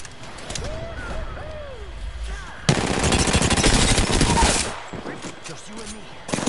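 Rapid automatic gunfire in the shooter Apex Legends: a loud, dense burst of rattling shots for a couple of seconds, with scattered game sounds and voices before and after.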